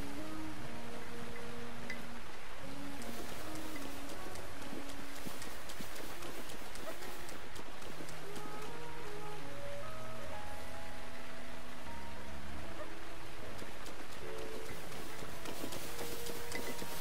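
Rain falls steadily in Zelda: Breath of the Wild, a soft continuous patter under a horse's clip-clop hooves and melodic background music, with no voices.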